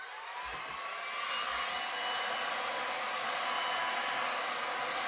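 Heat tool blowing over clear resin poured on an unprimed MDF board, a steady whirring rush that switches on and quickly settles into an even, continuous drone.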